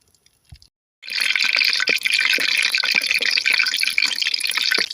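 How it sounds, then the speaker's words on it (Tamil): Cooking oil poured into a pan before frying banana bonda: after a second of near silence, a continuous close glugging, splattering stream runs to the end, without any talk. "எண்ணெய் ஊற்றிக்கலாம்."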